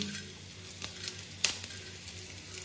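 Gujje (raw jackfruit) palya ingredients fry in a pan until crisp, giving a steady close sizzle with a few brief clicks of stirring, no talking.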